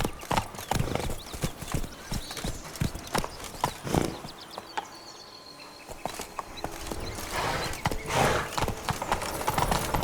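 Horse hooves gallop in The Witcher 3: Wild Hunt, Blood and Wine, as a fast, close, steady clip-clop with a brief neigh and light ambient noise. A short quieter stretch comes midway.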